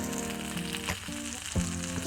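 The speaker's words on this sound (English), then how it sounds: "sizzling sausages are done" Sausages sizzle steadily in a hot pan at a campsite, a constant crackling fry with a faint low hum beneath and no voices.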